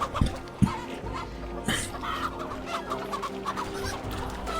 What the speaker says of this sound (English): What are the chickens doing to us?